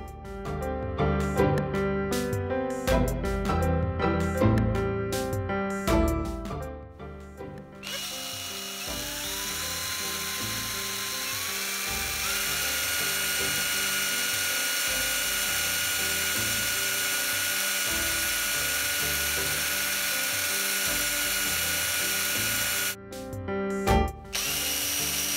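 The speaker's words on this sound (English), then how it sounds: "Then you change the drill bit to the bigger one." Handling clatter and clicks at first, then a power drill with a bigger bit starts and runs steadily through a cork stopper for a long stretch, ending with a few knocks.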